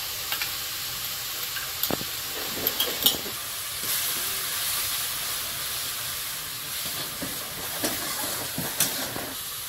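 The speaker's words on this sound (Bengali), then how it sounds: "মশলাটা ভালো করে কষিয়ে নেব" Spice paste of ground coriander and cumin with a splash of water is sautéed in a pan. It makes a continuous hissing sizzle, broken by scattered soft clicks and scrapes of stirring, with no talking.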